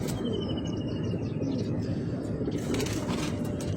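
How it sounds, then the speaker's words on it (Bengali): Pigeons of several breeds kept together in a loft, their soft cooing and chirps blending into a steady, close murmur that runs throughout without talk. "এখানে অনেক লাইনের কবুতর আছে।"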